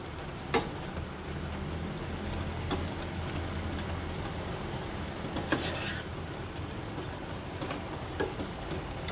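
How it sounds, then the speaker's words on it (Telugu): Greens being stirred and mixed in a frying pan, a soft continuous sizzle with a few sharp spoon-on-pan knocks scattered across it, close but fairly quiet. "చూడండి ఫ్రెండ్స్ ఇలా కలుపుకోవాలి"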